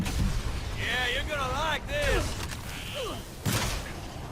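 Weapon fire in the video game Evolve, with sharp gunshot bursts and thuds at the start, near two seconds and around three and a half seconds, mixed with warbling game effects under a voice.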